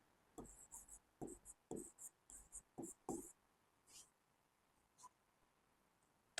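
Pen on paper: a run of short, close scratchy strokes as answers are written out on an exam question sheet, trailing off into near silence with a couple of isolated marks.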